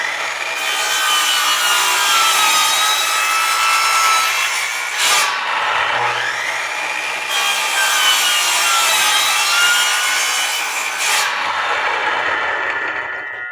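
A handsaw cuts through a wooden board laid across a frame for a cuckoo clock stand, long rasping strokes repeating steadily and loud, with a brief pause between passes.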